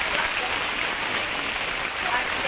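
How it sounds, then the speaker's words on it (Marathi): A sudden heavy downpour around a house with overgrown trees makes a steady, close hiss of rain striking surfaces that stays even and loud from start to finish. "इकडे यार एवढा पाऊस चालू आहे"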